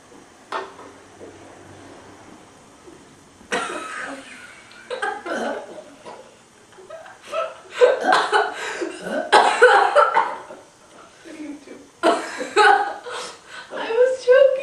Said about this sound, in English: I was choking and burping at the same time.